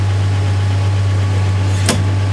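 A 1961 Studebaker Lark VI engine runs at a steady idle with a constant low hum, close and fairly loud, and a single brief sharp click near the end.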